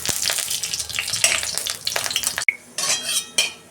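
A dried red chilli and a bay leaf hit hot oil in a kadai for a dal tempering, giving a loud, close crackling sizzle with metal clinks, a sudden break, then renewed spattering.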